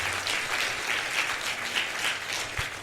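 A theater audience claps for the debate teams at an intercollege debate launch. The applause is brief and steady and fills the whole moment.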